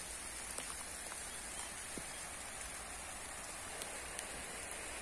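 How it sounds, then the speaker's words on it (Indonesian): Light drizzle falls steadily outdoors around a citrus orchard, a soft, even hiss of fine rain with faint scattered drop taps and no voices. "ternyata gerimis, gerimis lur"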